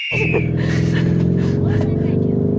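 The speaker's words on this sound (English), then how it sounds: "if you put it over here into Corsa, it really sounds like a Lamborghini" Lamborghini Urus S V8 in Corsa mode, a deep steady engine drone with strong low harmonics held throughout, loud and close from inside the moving SUV, with a brief higher whine at the start.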